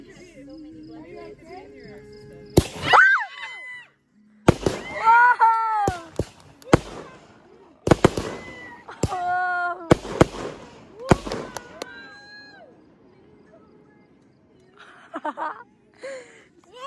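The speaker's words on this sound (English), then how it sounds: "Now we're gonna go do the fireworks again." Firework blasts go off outdoors, a series of loud sharp cracks and booms spread through the night, with people talking, gasping and laughing between the explosions.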